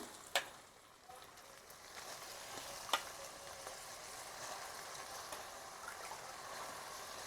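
Eggplant and bean curry sizzling softly in a pan during village cooking, a steady quiet fry with a few sharp pops and stirring clicks.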